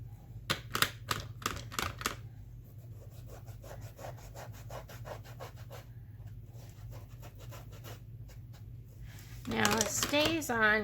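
Stays On Timber Brown ink is rubbed along the edges of art journal pages in quick, close scratchy strokes, first a burst of sharp swipes and then a softer, steady rhythmic rubbing that swells again near the end.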